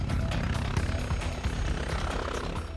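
Air ambulance helicopter lifting off, an Airbus H145-type machine, rotor chop and engine noise thumping close and loud in a steady rapid rhythm for a few seconds.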